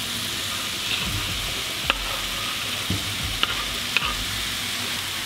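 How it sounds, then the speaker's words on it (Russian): Smoked meats and carrots fry in a pan over low heat with a steady, close sizzle, broken by a few sharp clinks as the mix is stirred. No one speaks. "Обжариваем это все минут 5-6 на небольшом огне."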